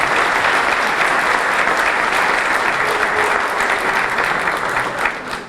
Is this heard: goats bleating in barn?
no